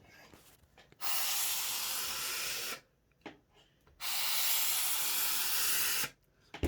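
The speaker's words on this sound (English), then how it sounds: "I'm going to be steaming the veiling" A garment steamer hisses steam onto hat veiling. Two loud, steady bursts come close to the microphone, each lasting a couple of seconds, with quiet gaps between them.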